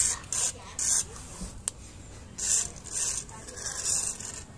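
Short hissing bursts of lubricant sprayed from a can onto the door hinge of a Suzuki Ertiga, several spurts in an uneven rhythm, close up, with light handling noise between them.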